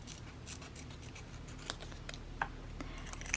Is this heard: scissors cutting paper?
yes